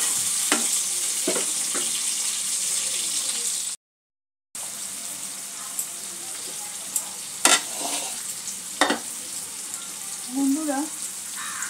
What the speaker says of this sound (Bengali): টমেটোটাও একটু অল্প করে ভেজে দেব, যতক্ষণ না একটু কাঁচা গন্ধটা চলে যায়।